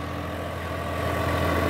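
A John Deere 5405 4x4 tractor pulling a 24-disc harrow runs steadily under load while turning, its diesel engine a constant close drone that builds slightly toward the end.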